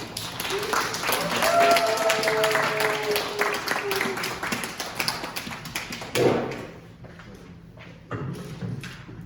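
A church young-adults gathering claps to welcome a speaker to the stage, a burst of applause mixed with voices that thins out and stops partway through, leaving scattered taps and thumps.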